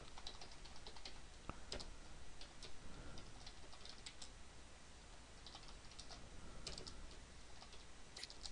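Computer keyboard typing in bursts of quick clicks with short pauses between, close and fairly quiet over a steady background hiss, no voices.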